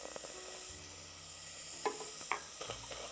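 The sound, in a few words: diced onion sauteing in a pan without oil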